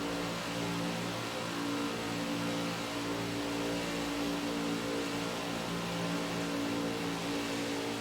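Race trucks in a video game lap Pocono, a steady dense engine drone sustained throughout with no clear passes or gaps, loud and continuous.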